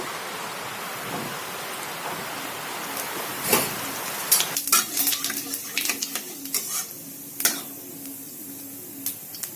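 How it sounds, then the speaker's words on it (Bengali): Cumin seeds tempering in hot oil in a wok for chana dal give a crackling, rain-like sizzle, joined midway by several close metallic clinks of a utensil against the pan. "কড়াই বসিয়ে দিয়েছি ডাল সেদ্ধ করা হয়ে গেছে তেল দিয়ে দিয়ে একটু মানে জিরা ফোড়ন দিয়ে"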